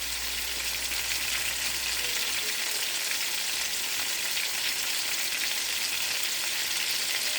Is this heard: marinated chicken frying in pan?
yes